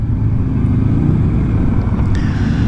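A 2025 Honda Goldwing 50th Anniversary motorcycle with the DCT transmission cruises along, a loud steady low rumble with road and wind noise throughout, a faint tone rising near the end, no talk.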